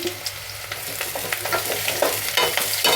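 Thin kohlrabi pieces go into a hot pan and are stirred while frying for a kohlrabi and pea kurma, giving a close, steady sizzle broken by quick scraping strokes.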